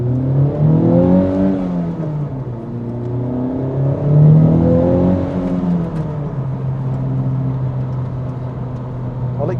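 A 2021 Honda Civic Type R accelerating from inside the cabin, a steady loud engine drone whose pitch rises and falls through two surges, with no talk over it.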